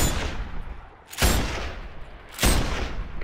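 Two loud sniper rifle shots in the Sniper Ghost Warrior 2 video game, each a sharp close blast with a ringing tail, spaced roughly a second apart.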